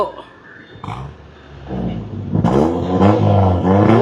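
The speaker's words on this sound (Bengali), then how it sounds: "যে রিমোট দিয়ে আপনি চাইলে এই একজস্ট অফও রাখতে পারবেন আবার চাইলে অনও করতে পারবেন" A 1500cc car with a remote-switchable exhaust revving, a rough engine growl that builds into louder pulsing revs toward the end, with voices briefly audible early on.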